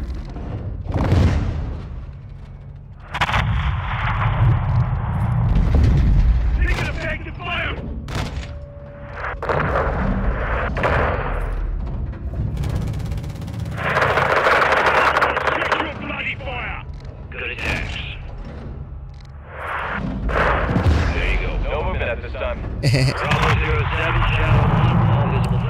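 An AC-130 gunship fires on targets in the Modern Warfare 2 campaign, with repeated heavy cannon booms and cracking impacts over a constant engine drone, mixed with radio chatter and voices talking throughout.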